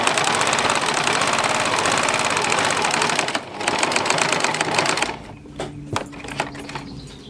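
A sewing machine stitching round elastic runs in a loud, fast, even mechanical chatter for several seconds, pauses briefly, resumes, then stops, leaving a few quieter handling clicks.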